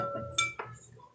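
A spoon and fork mixing anchovies for Caesar dressing in a bowl, giving two short, close metallic clinks against the dish over quiet background.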